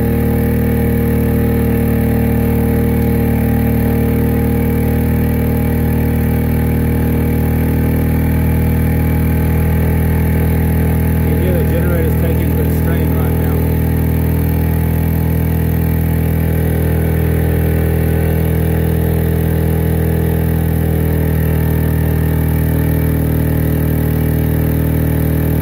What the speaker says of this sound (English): Let's see if our generator will handle 60 amps.